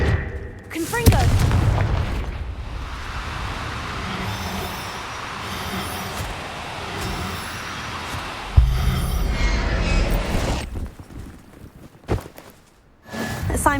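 A fire spell erupts with a sudden boom in the Hogwarts Legacy game, followed by a long rumbling, crackling roar, a second heavy impact partway through, and a few sharp hits near the end, with game voices over the blasts.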